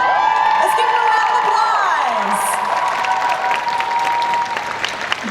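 A crowd at the Otakon 2018 cosplay masquerade claps and cheers loudly, with whoops and high shouts over steady applause that stays strong throughout.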